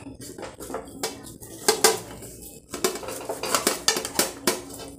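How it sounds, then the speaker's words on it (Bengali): A knife cuts through the tough peel of a raw jackfruit in a home kitchen, giving close, irregular scraping and clacking strokes against a board and pan that grow denser and more rhythmic toward the end, with no talking. "খোসাটা এঁচুড়ের খোসাটা কেটে নিলাম, এবার কেটে বাদ দেব এইটা।"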